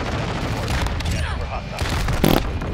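Gunfire in Modern Warfare 2, with several sharp shots and bursts cracking over a noisy battle background, a louder burst near the end.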